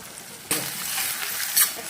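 Carrot, onion, green chilli, ginger and potato frying in a pan for a Godavari-style fish curry, a steady broadband sizzle that jumps up sharply after a quiet start and holds, with a brief brighter hiss near the end.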